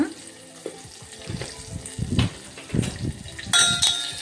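Dried red chillies, curry leaves and turmeric crackle and sizzle in hot oil as a close, busy frying hiss with irregular pops and stirring scrapes, ending with a bright metallic clink.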